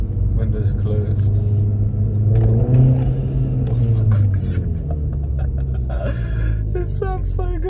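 A VW Golf R MK7 with a tuned EA888 turbo engine and RAMAIR induction kit accelerates gently with the windows closed, giving a steady close engine rumble and rising revs while people talk over it.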